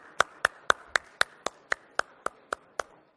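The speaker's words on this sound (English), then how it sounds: "can we give a huge round of applause for Mr. Navin Chandani" Slow, evenly spaced claps, about eleven sharp strikes in three seconds, sound after a conference audience is asked to applaud a CRIF director for India and South Asia. The claps are fairly close and distinct, with no talking.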